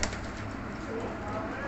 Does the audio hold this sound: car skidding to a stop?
no